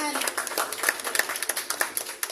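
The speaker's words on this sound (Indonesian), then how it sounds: "Boleh dong kita berikan tepuk tangan." Scattered clapping from an audience at the launch of the Brawijaya IVF Center, a modest patter of individual claps up close with a voice speaking over the start.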